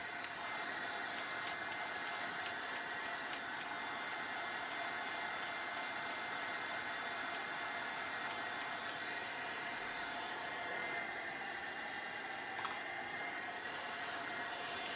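Heat gun blowing hot air onto paint on an antique wooden box, a steady loud whooshing hiss with no breaks, heard alone for the whole stretch.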